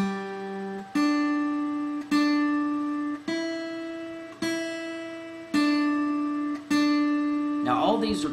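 Guitar playing its first four notes slowly as quarter notes: seven evenly spaced, clear single plucked notes, each ringing and fading before the next, close and moderately quiet, ending with a brief scratchy strum.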